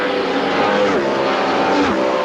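IRL race cars at the 1998 Phoenix Dura Lube 200 oval race roar loudly past, engine pitch sliding down twice as cars go by, with a continuous dense motor drone and a faint announcer voice beneath.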